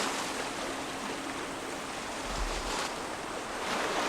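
Waves lapping at the shore of Lake Tanganyika, a steady broadband wash of surf with soft swells and a brief low thump, heard alone with faint wind.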